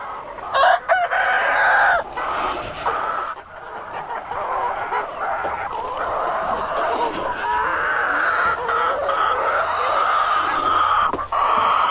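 A rooster crows loudly and repeatedly over steady clucking from a flock of chickens nearby, with no speech.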